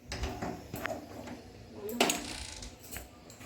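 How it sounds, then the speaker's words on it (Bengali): A metal kadai is set down on a gas stove, giving one clear metallic clank midway, with a few softer knocks and handling bumps around it, close by. "এবার আমি আবারও গ্যাস জ্বালিয়ে"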